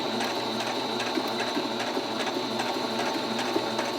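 A sewing machine running steadily during a beginner's sewing lesson, a fast, even mechanical whir with a rapid stitching rhythm, close and continuous.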